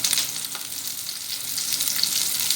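Chicken mince kebabs fry in hot oil in a kitchen pan, producing a steady, close crackling sizzle that continues throughout without speech.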